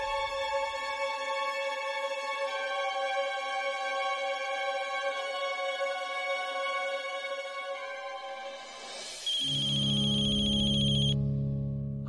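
A telephone ringtone plays during a family phone call, a sustained, tonal melodic ring that runs for several seconds before shifting abruptly into a louder, brighter tone near the end, with no talking over it.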